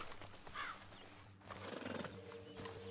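Horse in Red Dead Redemption 2, with clip-clop hooves and a whinny over a low steady game rumble, close and fairly loud throughout.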